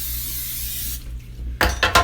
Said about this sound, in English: use my Aldi spray and spray it on the sides and on the bottom